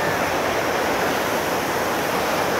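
A large mountain stream swollen after a flash flood roars loudly and continuously, a dense, steady rush of churning water with no voices over it.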